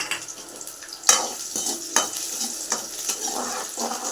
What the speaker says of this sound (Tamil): இப்போ இஞ்சி பூண்டு ஒரு பச்சை மிளகாய் வச்சுருக்கேன், அரிஞ்சு அதை அதுக்குள்ளே போட்டுக்கலாம்.